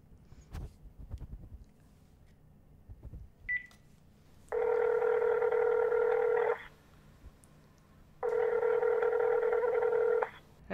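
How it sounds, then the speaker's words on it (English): A telephone dialing out to call someone: a short keypad beep, then two long ringback tones about two seconds each with a pause between, after quiet handling noises. "Now call Mark"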